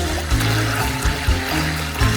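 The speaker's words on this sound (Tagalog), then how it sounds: "Kailangan ko lang talunin ng tubig at gulaman." Water and gelatin are beaten together for jelly, giving a continuous sloshing, churning liquid sound with rhythmic pulses throughout.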